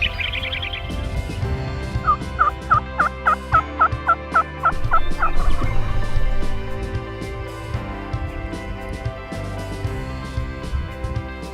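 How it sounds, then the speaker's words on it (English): Wild turkey gobblers rattle off a rapid series of loud gobbles a short way off, about a dozen pulses in quick succession, then fade into quiet outdoor ambience. "Two gobblers, 100 yards."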